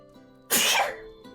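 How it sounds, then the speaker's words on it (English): A single loud, close human sneeze bursts out after a brief quiet intake, with a short trailing breath afterward and no talking. "I gotta sneeze!"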